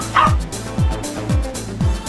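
A parrot mimics a dog, giving four evenly spaced bark-like calls, each with a short falling pitch, loud and close, with no talking over them.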